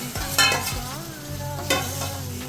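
Lemon pieces being stirred into fried chili powder in a pan for a lemon and dates pickle: scraping stir strokes with a soft sizzle underneath, rising in two brief louder bursts. No one speaks.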